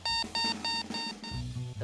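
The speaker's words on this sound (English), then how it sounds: "there's a ball that beeps" A beeping ball for beep baseball gives a rapid series of bright, pulsing electronic beeps. The sound is close and steady, and a lower tone joins it near the end.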